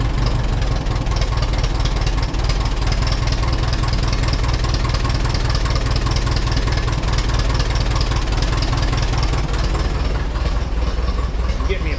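A 1952 Allis Chalmers WD tractor engine idles roughly on three cylinders, a steady, loud, close chugging with an uneven knocking beat that continues throughout without voices.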